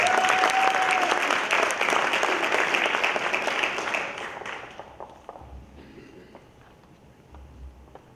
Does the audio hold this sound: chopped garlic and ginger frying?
no